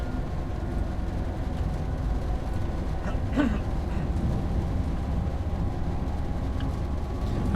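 High-speed train in Train Sim World 3 running toward Fulda, a steady low rumble and rolling drone that holds evenly throughout, with a brief faint knock partway through.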